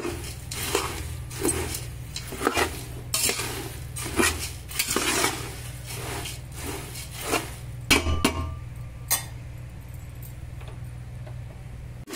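Puffed rice being stirred and roasted in a metal pan, with a steady scraping and clinking of a spatula against the pan in a repeated rhythm, close and moderately loud, easing off toward the end.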